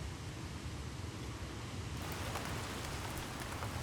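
Steady rain falls in the Otway forest of Victoria, a dense even hiss that thickens slightly partway through, with no voices.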